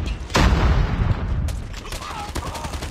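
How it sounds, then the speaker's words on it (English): Grenade blast in a first-person shooter match, a sudden heavy explosion that rumbles and decays over a second or two, followed by scattered shots and faint game chatter. "Grenade out!"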